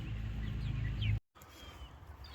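Chickens settling into their coop for the night beside a newly installed Premier 1 electric poultry fence: faint, scattered clucks over a steady low hum, broken by a brief moment of silence midway.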